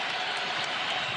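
A basketball crowd roars steadily at the Lloyd Noble Center during a college game between Oklahoma and Florida, a dense, continuous wash of cheering and noise with no breaks.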